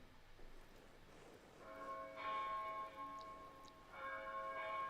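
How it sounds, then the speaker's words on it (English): A church bell in the monastery game Pentiment tolls the hour, a few clear resonant strikes ringing out over a quiet ambient background, each one sustaining and overlapping the next. "The bell is ringing."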